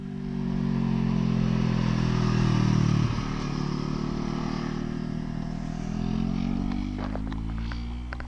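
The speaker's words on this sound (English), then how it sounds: "You hear that car?" A black car's engine rumbles loudly and steadily nearby on Mulholland Highway, with a rough low drone and a shift in pitch partway through, plus some clattering toward the end.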